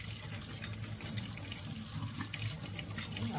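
Running tap water rinses a soiled surgical implant in a decontamination sink, a steady close splashing hiss with no pauses.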